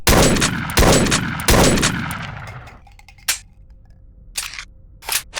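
Shotgun blasts from the Betty Boom stick in a first-person shooter game: three loud, booming shots roughly 0.7 seconds apart, each with a long decaying tail, then softer mechanical clicks and clacks of reloading.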